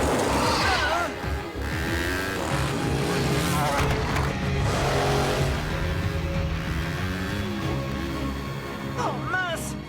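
Animated vehicle engine roaring at full throttle in a Slugterra cartoon chase through underground caverns, a loud sustained revving drone with rising pitch sweeps, mixed with excited character voices and music.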